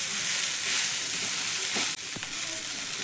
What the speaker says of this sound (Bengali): সব সবজি খুব ভালোভাবে একটু নাড়াচাড়া করে আমি ভেজে নিলাম।